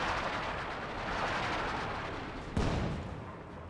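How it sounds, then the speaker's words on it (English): A pack howitzer fires in a World War II video game battle, a sharp boom near the end standing out over a steady, dense roar of gunfire and explosions. "Pack howitzer firing."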